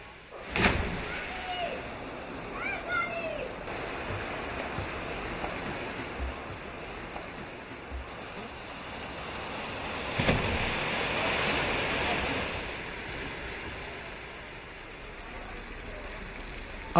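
Waterfalls pour from cliffs into a clear mountain pool in Artsakh, making a steady, broad rushing wash that swells briefly near the start and again midway, with faint chirps above it.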